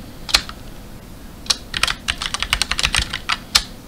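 Someone types a password on a computer keyboard: a quick, close, irregular run of crisp key clicks with small pauses between bursts.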